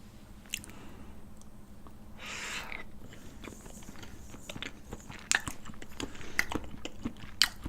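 Raw salmon sashimi dipped in chili-pepper sauce with onion is chewed up close, giving soft wet bites and small squishy crunches over a quiet background with no talking.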